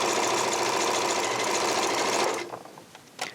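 A Janome computerized sewing machine stitches rapidly in a steady, fast whirring buzz while sewing a locking stitch, then slows and stops with a few faint clicks at the end.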